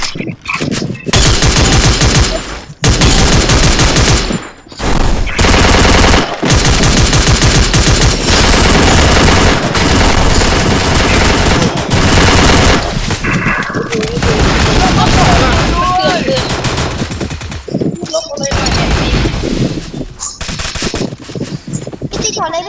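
Loud, nearly continuous gunfire in the battle game Free Fire, with rapid automatic bursts and heavy booms packed together. A few brief gaps break the barrage, and a player's voice talks over it.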